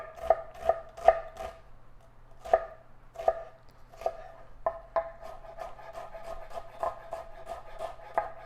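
Shallots being finely chopped with a knife on a board, a run of crisp, close knocks, spaced at first and then coming faster and more evenly, with no talk.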